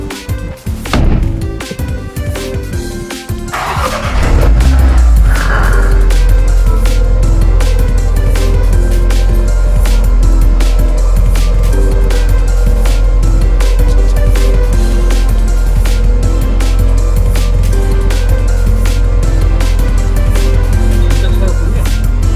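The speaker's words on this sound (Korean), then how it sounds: "시동 소리가 너무 웅장하다" A high-performance BMW-group car engine in a dealership showroom starts with a loud burst, then settles into a deep, steady idle rumble that continues to the end, with people talking briefly around it.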